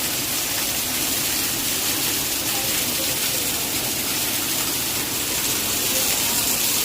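Heavy rain pours in Mumbai, a dense, constant hissing downpour close by with no breaks, a voice briefly audible beneath it.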